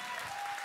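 Church congregation applauding steadily, a dense even patter of many hands clapping close by with no pauses.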